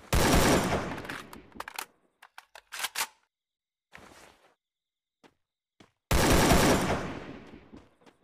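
Gunfire in the mobile battle royale Free Fire: two loud, sharp bursts of shots several seconds apart, with scattered softer clicks and thuds in the quiet gap between them.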